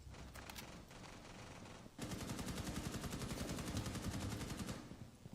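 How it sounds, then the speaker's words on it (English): Rapid video game gunfire crackles in a sustained automatic burst, starting with a few scattered shots and then hammering on steadily for several seconds at a moderate distance, with no talk. "Where's them shots coming from?"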